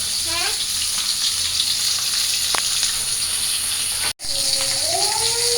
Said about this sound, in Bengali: আর এদিকে মাছ ভাজাটা হচ্ছে থাক